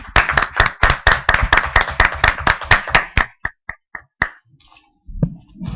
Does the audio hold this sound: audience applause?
yes